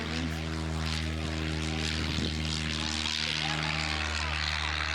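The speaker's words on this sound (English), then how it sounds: "I only managed to get one plane taking off on camera" A propeller airplane roars steadily at a distance during takeoff, its engine drone holding a constant hum the whole time, with faint voices briefly audible underneath.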